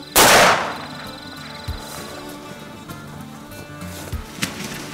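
A single loud, close gunshot during a hunt cracks at the start and decays, followed by quieter outdoor rustling and small knocks.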